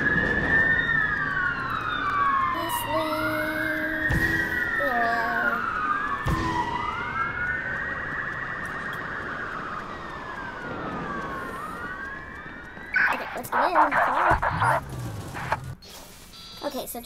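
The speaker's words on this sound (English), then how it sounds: "That's a lot of sirens for a blackout." Police sirens wail in the video game Watch Dogs, several overlapping sweeping tones rising and falling over a steady engine rumble, with voices talking over them and a louder burst of noise near the end.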